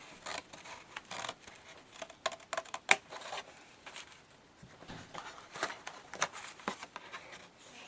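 Crafting scissors snip through paper strips for a gift bag in a string of quiet, irregular cuts with short pauses, close and soft.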